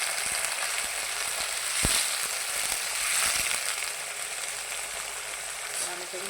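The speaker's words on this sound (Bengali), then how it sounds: "সবার প্রথমে কিন্তু আমি আগে পনিরটাই ভাজা করে নেব" Paneer pieces fry in hot oil in a kadai with a dense, steady sizzle and occasional sharp crackles and pops, heard up close.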